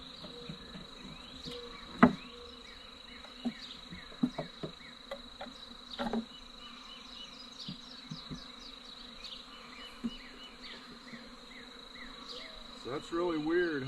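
A wild honey bee swarm being moved into a new beehive, with a steady, close insect buzz throughout and several louder, brief bursts and handling knocks rising above the drone.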